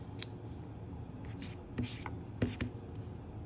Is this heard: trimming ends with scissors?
yes